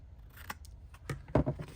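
Scissors snip through a paper tag in a few sharp, close cuts, the last pair louder, with no talking over them.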